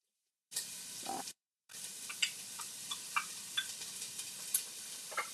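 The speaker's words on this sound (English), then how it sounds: "you're going to hear the seasoning, the sizzling." Seasoning sizzles and crackles in hot oil, a soft steady hiss dotted with small pops after a brief pause near the start.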